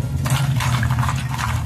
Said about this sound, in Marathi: आता या सोयाबीन वड्या थोड्या पाण्याने आपण छान अशा धुवून टाकू